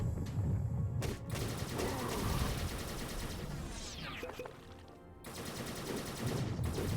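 Turret gunfire in the game Fallout Equestria: Remains, a dense, continuous rattle of automatic shots with bursts and a brief sweeping effect midway, loud and sustained throughout.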